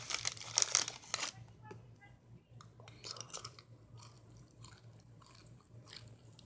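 Coffee Nut M&M's crunched between the teeth after a loud crinkle of the candy wrapper, with close chewing and faint mouth sounds that die down to quiet munching.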